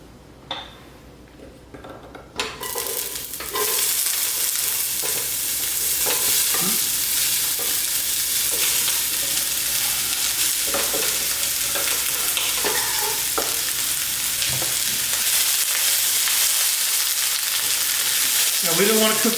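Celery and onions sizzle and fry in olive oil in a pan over medium heat, a loud steady crackle that starts abruptly after a quiet moment and continues throughout, with occasional stirring and utensil clinks.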